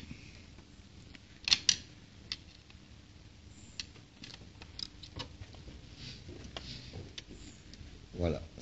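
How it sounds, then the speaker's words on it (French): A wrench tightens a diesel fuel filter on a Kia Carnival: a few faint metallic clicks, with a brief pair near the start, over a quiet workshop background with a soft murmur of voice. "je mets la clé et je continue à serrer"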